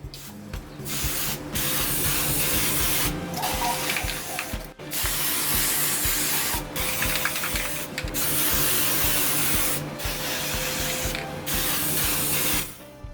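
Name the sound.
spraying Varathane semi-gloss sealer onto wooden hat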